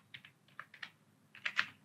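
Quick, light keystrokes on a computer keyboard, a short run of close clicks that grows a little louder toward the end, with no voices.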